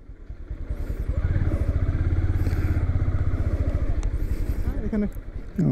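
A motorcycle engine runs with a steady, throbbing idle close by while being parked in a garage, a low mechanical clatter persisting throughout with faint voices in the background.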